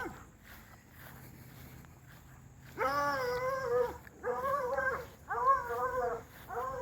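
Hound dogs barking and baying along a fence, several drawn-out howling barks in quick succession after a quieter stretch of footsteps and movement, moderately close.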